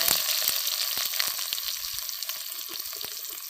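Shallots frying with whole spices such as cinnamon, star anise and bay leaf in hot oil for a country chicken gravy, with a loud, bright, continuous sizzle and crackle and scattered popping bursts, up close.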